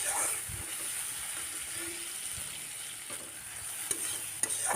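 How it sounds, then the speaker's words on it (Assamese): Spice masala frying in a pan for a paneer curry, a constant hissing sizzle close by with occasional light stirring taps and no speech. "এতিয়া ধুনীয়াকৈ মছলাখিনি ভাজি ল'লোঁ।"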